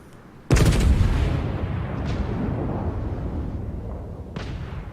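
Naval gunfire in the World of Warships game: a loud, sharp cannon blast booms out and rolls on as a long decaying rumble, with a couple of fainter distant shots following.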